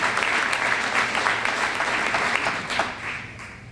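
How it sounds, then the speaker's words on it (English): An arena audience applauds steadily, a dense wash of many hands clapping at once that holds at a fairly even level before easing slightly at the end. "Jason, a round of applause and a hats off, and a thank you to you and your team."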